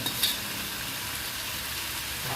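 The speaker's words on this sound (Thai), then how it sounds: "นำเส้นที่เราลวกไว้แล้วนะคะ ลงไปทุกเลยค่ะท่านผู้ชม" Blanched mee sua noodles go into a hot pan for stir-frying, giving a steady, soft sizzle, with a brief clink near the start.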